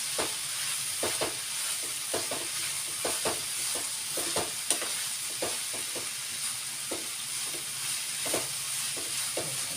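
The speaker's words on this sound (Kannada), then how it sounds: "ಟೊಮೊಟೊ ನಿಧಾನವಾಗಿ ಮೆತ್ತಗೆ ಆಗ್ತಾಯಿದೆ" Tomatoes soften as they fry in a pan for tomato bath, with a soft continuous sizzle and regular clinks and scrapes of a spoon stirring them, close and fairly quiet.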